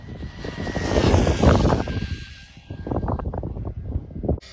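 Small RC model on a 4S LiPo pack runs at full throttle in a speed test, a loud buzzing whine that swells, dips as it passes, then rises again before cutting off abruptly.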